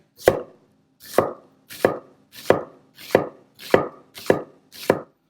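Red onion being chopped for salsa with a knife on a board: eight crisp, evenly spaced strokes about every 0.7 seconds, close and clear, with no talking.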